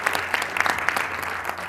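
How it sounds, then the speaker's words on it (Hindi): An audience at an award event and musical show applauds after a performance, with a dense, steady burst of clapping from a sizeable crowd that is heard alone. "अगर आपको अच्छा लगा तो आपकी तालियां बता देंगे"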